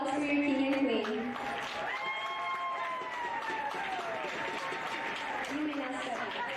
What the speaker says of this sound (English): Give a round of applause for your king and queen.